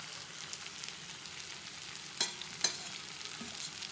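Chili and coriander powder stirred into a sizzling pan for a vegetable curry, a steady quiet hiss with two sharp spoon scrapes near the middle.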